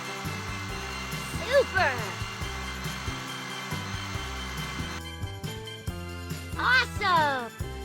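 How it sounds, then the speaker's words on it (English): A power tool cleaning up the rough edges of a hole in a vehicle during a cartoon truck repair game, a whirring tool sound set against bouncy background music, with swooping chime effects and a cheerful voice briefly speaking. "Let's clean up the edges using a tool."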